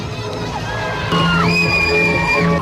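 An audience cheering for beauty pageant candidates at a festival in Dagupan, with whoops and shrill yells rising over crowd noise, loud and close.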